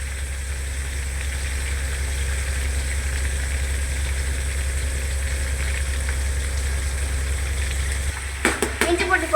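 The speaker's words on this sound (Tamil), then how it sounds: "இஞ்சி பூண்டு போட்டு நல்லா வதக்கிக்கலாம்." Ginger and garlic sauté in a pan for vegetable biryani, giving a steady, close sizzle with a low hum underneath; a few sharp scraping clicks come near the end.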